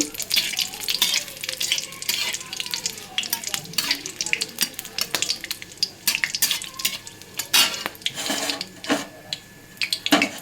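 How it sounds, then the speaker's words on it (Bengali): Whole garam masala spices fry in hot oil with a crackling sizzle while a utensil stirs and clinks against the pan in irregular bursts, close and moderately loud, with no talking. "এখন এগুলোকে সব দিয়ে দেব তেলের মধ্যে গোটা গরম মশলাটাও দিয়ে দিলাম এগুলো একটু হালকা হাতে নাড়াচাড়া করব"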